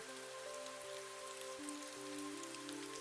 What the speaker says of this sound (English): The rain continued its gentle sound, steady and reliable,